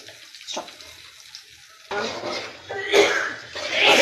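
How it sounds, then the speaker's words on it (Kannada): Water is poured into a mixer jar in a kitchen, a splashing trickle that grows louder in a couple of bursts after a quieter start. "ಸ್ವಲ್ಪ ನೀರು ಹಾಕಿದ್ದೀನಿ"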